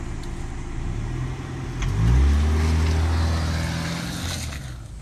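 A 2019 Subaru Forester Sport in X-Mode drives on grass, its engine close and loud as it revs up, rising in pitch, then easing off, with no talk.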